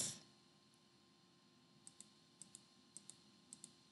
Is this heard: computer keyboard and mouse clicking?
yes